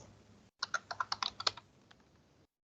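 Fingers typing an email address and password on a computer keyboard for an online cinema ticket booking login, a quick close run of about ten keystrokes with no talk, followed by quiet.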